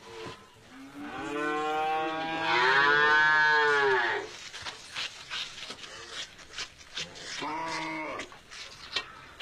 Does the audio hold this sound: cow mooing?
yes